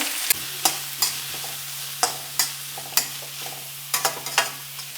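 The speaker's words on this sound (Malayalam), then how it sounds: "നമുക്ക് എണ്ണയൊക്കെ ഒഴിച്ച് സവാള ഒന്ന് വരട്ടിയെടുക്കാം" Two finely chopped onions sauté in oil in a pan, with a steady sizzle under repeated close spatula scrapes coming every half second or so, and a low hum in the background.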